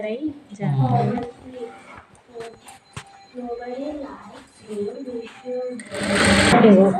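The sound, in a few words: sewing machine stitching lehenga fabric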